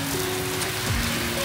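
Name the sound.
heavy rain in Florida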